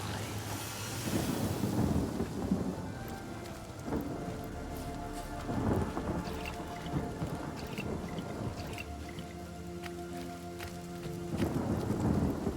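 Rain pours steadily in the fantasy game Divinity: Original Sin while thunder rolls and rumbles at intervals, fairly quiet and continuous with no talking.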